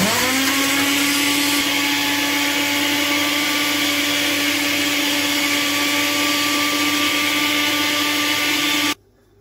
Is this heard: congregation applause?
no